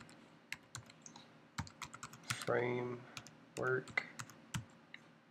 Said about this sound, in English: So just type this in,